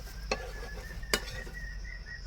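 Dosa roasting on a hot pan gives a steady, quiet sizzle throughout. Two short scraping or tapping clicks stand out against it.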